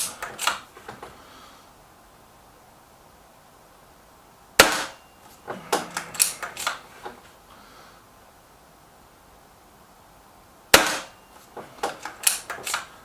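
A BSA Ultra TS air rifle fires two sharp, close shots several seconds apart during target shooting, each followed by light clicks and handling clatter, with no talk.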